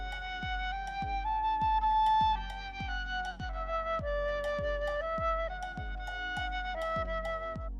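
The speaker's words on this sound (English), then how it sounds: "That was the sound of a flute." A flute plays a slow, gentle melody of held notes over a steady plucked bass pulse, clear and close, with no voices.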